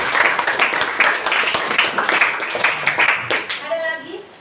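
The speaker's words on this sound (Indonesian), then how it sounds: "Beri tepuk tangan dulu untuk Kiara." Middle school students in a Kupang classroom clap for a classmate, a lively burst of hand claps that thins out near the end as a voice comes in.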